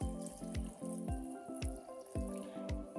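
Water pours into a cooking pot of porridge beans in a series of quick splashing glugs, about a dozen bursts in a loose rhythm, close and fairly soft, with no voices.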